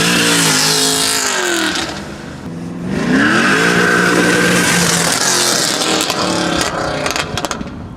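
A lightweight race car engine revs and then pulls hard from a standing launch, its pitch rising sharply and staying loud and raspy with some rattling as it speeds away, heard close.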